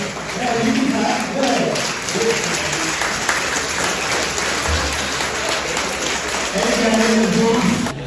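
A studio audience on a Thanksgiving Day special show bursts into sustained, dense applause that lasts several seconds, with a voice speaking briefly at the start and end.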